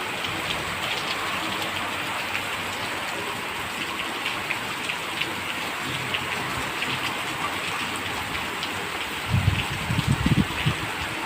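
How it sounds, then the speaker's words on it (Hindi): Heavy rain pours steadily for the whole stretch, a dense close hiss of drops on surfaces, with a few louder low splashes or thumps near the end; no talking. "जब गई थी तब तो काफ़ी तेज़ बारिश होने लग गई थी"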